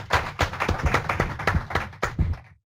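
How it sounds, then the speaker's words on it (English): A small group claps for a few seconds, loose uneven claps with some louder strikes, tapering off quickly at the end. "We get a nice round of applause for Mira."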